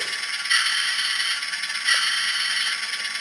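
Coupling sound from an N gauge model train sound car, two brief metallic clanks standing out over a continuous loud electronic engine drone, with no talk.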